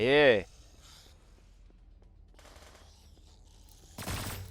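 Gunfire in the Roblox zombie survival game Undead Mayhem: a loud burst at the start, quieter shots through the middle and a heavy blast near the end, with a Thai-speaking player talking between them.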